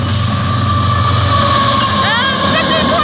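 A Union Pacific freight train led by locomotives 7676 and 5471 roars past up close, a loud continuous rumble with brief metallic wheel squeals near the end.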